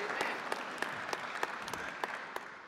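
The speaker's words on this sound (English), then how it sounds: "I'm glad you're clapping." A church congregation claps during a sermon, a thin, fairly faint patter with a few sharper individual claps standing out at an irregular rhythm, heard alone without talk.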